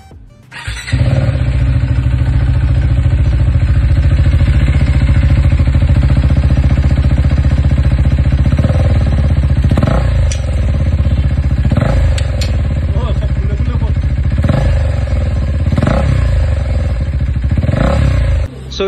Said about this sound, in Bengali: চলো এক্সজস্ট ছাড়া একবার সাউন্ডটা শুনে নিই